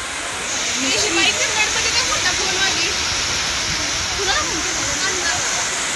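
Heavy rain pours at Murudeshwar on the Karnataka coast, a loud, dense, continuous hiss close at hand, with voices talking over the downpour.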